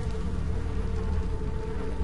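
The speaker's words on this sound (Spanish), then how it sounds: "Pinches moscas." Flies buzzing in the horror video game The Evil Within, a continuous close drone with a steady hum that persists throughout without talk.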